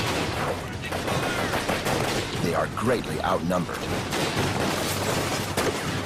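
Bursts of gunfire crackle repeatedly in the background while someone speaks over them.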